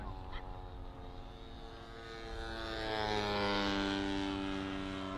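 A model P-51 Mustang propeller aircraft at an airshow, its engine drone steady and harmonic, swelling in loudness as it comes in to land, with a faint honk early on.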